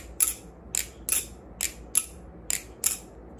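An LDY Sirius knife blade fitted to prototype Orion handles is flipped open and shut, giving seven crisp, evenly spaced metallic clicks close up against a quiet background.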